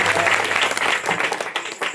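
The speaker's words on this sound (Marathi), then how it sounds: "त्याच्याकरता टाळ्या वाजवत" Audience at a Marathi kirtan clapping for Pandit Maharaj, a dense, steady burst of applause from a gathered crowd that fills the whole short stretch.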